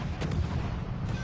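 Ship gunfire in World of Warships: Legends, a dense, booming artillery roar that stays loud and steady across the short moment, with no voices heard.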